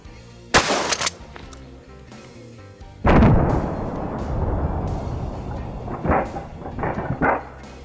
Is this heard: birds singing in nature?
no